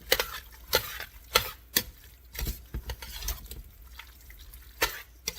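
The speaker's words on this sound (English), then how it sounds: "Okay, so I'm going to stir this in and see." Pork chili verde being stirred as green chili goes into the pot, with soft irregular scrapes and thick wet stirring knocks coming up close at an uneven rhythm. No voices.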